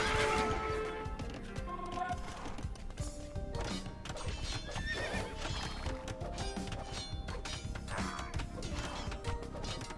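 Horses neigh repeatedly amid a busy clatter of hooves and scattered impacts, a dense, continuous battle bustle from Age of Empires II: Definitive Edition with horse archers and hussars.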